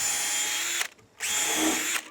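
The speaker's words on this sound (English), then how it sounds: "We're just pre-drilling and then putting in nice quality exterior grade heavy duty screws." A power drill pre-drills wood for heavy-duty exterior-grade screws, whining loudly in two close bursts with a brief pause between them and no voices.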